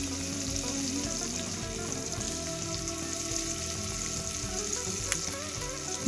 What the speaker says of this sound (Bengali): দিয়ে এখন আবারও নাড়াচাড়া করে নেব বেশ কিছু সময় ধরে।